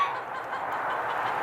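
Ducks honk in a yard on a cold winter day, a steady, slightly distant stretch of nasal calls with no talking.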